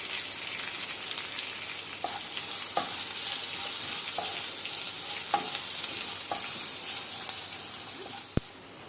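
Dried red chillies and asafoetida frying in hot oil give a soft, continuous sizzle with a few stirring scrapes and one sharp click near the end, fairly quiet, without talk.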